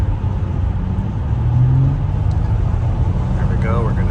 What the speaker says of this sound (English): easy acceleration and pickup from the 6-cylinder